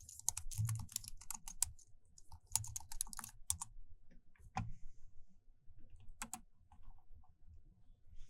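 Someone types a search on a computer keyboard in short bursts of quiet, quick key clicks separated by pauses, close and alone.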